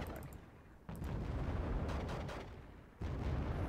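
Mortar rounds striking Panzer tanks in the strategy video game Wargame Red Dragon, two heavy booming impacts with rumbling tails and scattered crackling bursts, fairly loud, with no talk.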